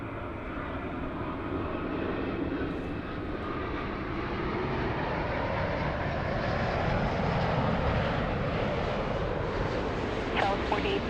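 Heavy Airbus airliner landing at LAX, a broad continuous jet engine roar that swells gradually and stays loud and close throughout.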